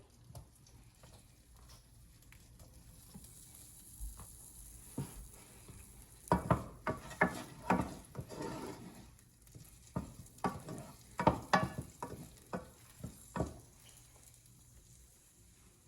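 Garlic frying in a pan gives a soft continuous sizzle, broken by a run of sharper stirring scrapes and clatters in the middle, fairly quiet and close.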